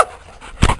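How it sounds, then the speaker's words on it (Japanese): A dog in a park lets out a single short, close bark after a moment of soft panting, loud and sharp against light outdoor background noise. "また吠えてる。"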